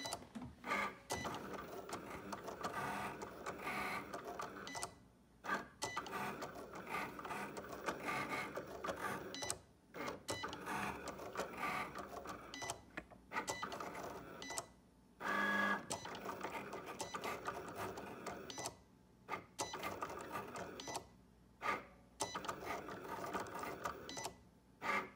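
A Cricut cutting machine scores craft card with its scoring stylus, whirring and buzzing in steady motor runs broken by several brief silent pauses as the carriage moves.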